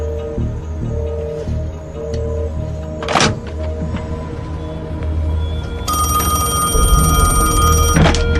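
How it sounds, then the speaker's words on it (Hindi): A telephone rings in a Hindi film scene, repeated electronic ring tones sounding in a steady pattern over background hum, with a brief sharp noise midway and no speech. "सर, वही दानियाल खान का फोन है।"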